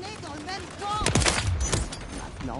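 Video game gunfire in a chaotic firefight, a dense cluster of loud shots bursting out in the middle while a voice talks over the action.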